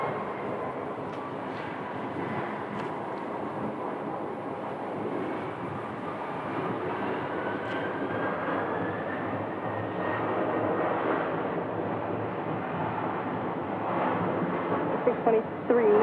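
An American Boeing 727 landing on runway 25 left at Phoenix, a steady broad jet roar that swells gradually over sixteen seconds, with wind buffeting the microphone.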